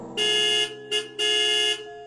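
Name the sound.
loud car horn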